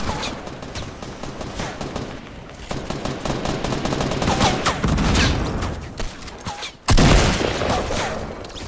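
Rapid automatic gunfire rattles in Fortnite, dense bursts of close shots running through most of the stretch, with a sharp loud blast near the end.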